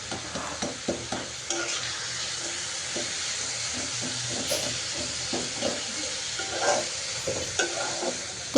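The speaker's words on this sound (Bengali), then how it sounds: "ওই আলু কুচি দিয়ে ভালোভাবে মাংসের সাথে এটা ভেজে নিয়েছি" Meat fries in a pan with diced boiled potato and chopped carrot, a low steady sizzle and hiss broken by intermittent stirring scrapes.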